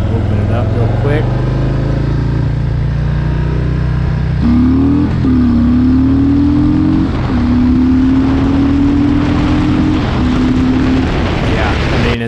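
Harley-Davidson Street Bob 114 motorcycle (FXBBS) accelerating through the gears to fourth on a test ride, a loud steady engine drone rising in pitch with gear changes, heavy wind noise throughout.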